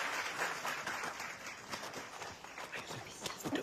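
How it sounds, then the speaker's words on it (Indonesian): An audience claps in scattered, uneven bursts of fairly faint applause, with a few louder individual claps standing out near the end. "Tepuk tangan."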